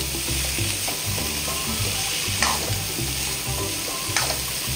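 Vegetable bhaji of chopped spiny gourd (kantola) stirred and frying in a pan, with a steady sizzle and irregular scraping strokes of the spoon throughout, close and moderately loud.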